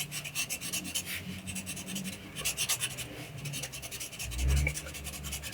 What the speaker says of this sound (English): Coloring in his lips lightly and blending around by rubbing again.